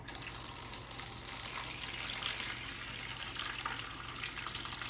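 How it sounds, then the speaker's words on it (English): Tap water pours steadily into a dog's bowl in an RV, a faint continuous splashing hiss with no voices. "We're going to fill one with Berkey water and we're going to fill one with RV tap water."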